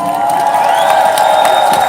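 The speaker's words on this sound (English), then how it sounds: "Let's give him a round of applause." An audience at a community gathering cheers and applauds in a loud, sustained crowd roar with scattered whoops throughout.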